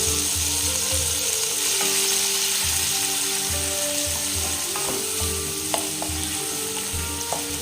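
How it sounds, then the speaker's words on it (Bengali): Chopped onion, garlic and ginger fry in hot oil with a loud, steady sizzle, joined by rhythmic scraping and clicking as the mixture is stirred around the pan. "তেলটা গরম হয়ে গেছে, এবার দিয়ে দেবো পেঁয়াজ, কুচনো পেঁয়াজ, কুচনো রসুন, কুচনো আদা, এগুলোকে খুব ভালো করে ভেজে নেব।"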